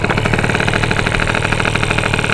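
A Honda Dio scooter engine with a tuning problem idles close by, a loud, steady buzzing putter with a fast pulsing beat and no voices.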